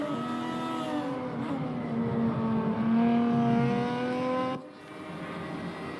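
Lotus Evora race car at Laguna Seca with its engine droning steadily and rising in pitch as it accelerates. The engine is loud and close and stays unbroken until it drops off sharply near the end.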